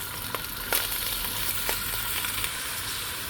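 Pre-boiled, drained rice is poured into hot oil in a pot for red bean plov, giving a continuous hissing sizzle broken by a few sharp crackles and pops, with no one speaking.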